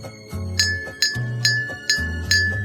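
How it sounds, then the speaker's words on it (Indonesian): A metal spoon taps the side of a glass filled with 200 or 400 ml of water about five times, each strike ringing with a clear, sustained glassy tone, close and alone. "pukul perlahan sisi gelas dengan sendok logam"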